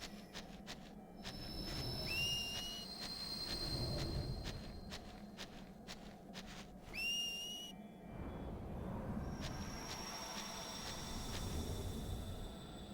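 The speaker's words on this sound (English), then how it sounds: "you mash X, you want to hear 4 whistles" Whistles in the Final Fantasy X-2 video game: several short rising whistle tones spaced apart, sounding over a noisy background with thuds and ambient rumble, no one talking.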